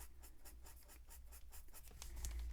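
Paper stump blending and shading on drawing paper, a soft, rapid series of close, faint scratchy strokes in a steady back-and-forth rhythm, growing slightly louder toward the end.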